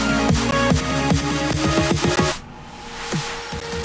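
A melodic dubstep build-up plays from a production project, with rapid repeating rising synth stabs and rimshot hits that accelerate for over two seconds before cutting to a sparse, quieter tail.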